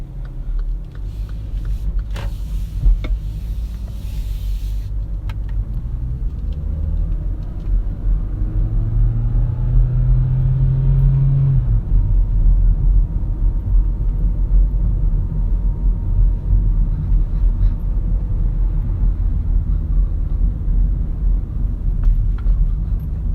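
A car climbs a steep hill in manual mode, its engine a loud, close, steady rumble that strains and rises in pitch as it pulls, with road noise underneath.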